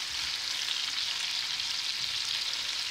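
Brussels sprouts fry in a pan in nothing but their own rendered fat, a steady, dense sizzle that holds close and even for the whole stretch with no voices over it.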